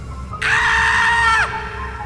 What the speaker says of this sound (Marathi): तिचा तो चेहरा दिसला आणि प्रियांका जोरात किंचाळली